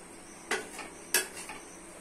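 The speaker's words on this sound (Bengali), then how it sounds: "দিচ্ছি কুচানো সবজি, ভালো করে দিয়ে কষে নিতে হবে" Two sharp metallic clanks of a spatula against a pan, about half a second apart, as chopped okra, potato, eggplant and tomato are stirred with chicken; otherwise fairly quiet with a faint background hiss.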